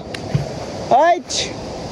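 A river rushes loudly and steadily, a continuous close roar of flowing water that fills the whole stretch, broken briefly by a short voice-like call.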